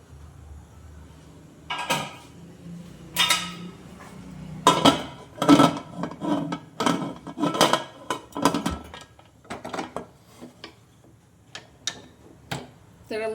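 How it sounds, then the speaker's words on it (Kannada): A metal pressure cooker lid is set on and closed in a home kitchen, a series of sharp clanks, clicks and scrapes of metal against metal, loud and close, with pauses between them and someone talking in between. "ಇದಕ್ಕೆ ಕುಕ್ಕರ್ ಮುಚ್ಚಳ ಮುಚ್ಚಿದ್ರೆ ಮುಗೀತು"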